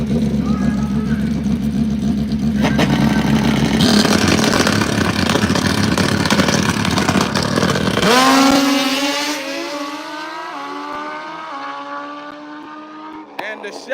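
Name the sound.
drag racing motorbikes launching at Maryland International Raceway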